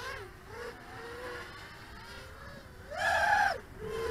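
A Skystars Eagle S221 DIY racing quadcopter on bi-blade props throttles up, its motors giving a steady, close electric whine that wavers and oscillates in pitch, then surges louder and higher for a moment before settling back.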